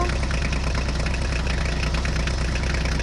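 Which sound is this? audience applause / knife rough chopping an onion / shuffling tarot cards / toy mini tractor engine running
toy mini tractor engine running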